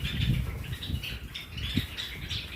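Java sparrows in an aviary flutter their wings in soft, irregular bursts of flapping, with occasional faint chirps, fairly quiet and close.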